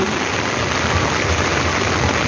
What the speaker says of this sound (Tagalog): Ay, lumakas ng ulan.